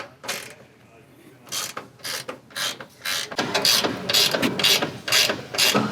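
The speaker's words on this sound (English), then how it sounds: "Let's get these 3 strut top nuts undone." Ratchet clicking in repeated bursts as the three strut top nuts come undone on a 2021+ Ford F-150 during a suspension install, sharp close ratcheting strokes growing louder and denser toward the end.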